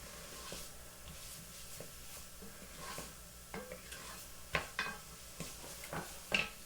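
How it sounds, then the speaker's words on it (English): Onion sautéing in a pan over medium heat gives a steady low sizzle, broken by scattered clicks and scrapes of a utensil stirring against the pan, close and moderately loud with no talking. "So we're just going to saute this onion a little bit, about 5 minutes on medium heat."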